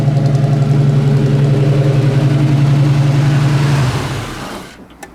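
A 1972 Chevrolet El Camino SS V8 idles with a deep, steady, loud rumble, then shuts off and dies away into near silence.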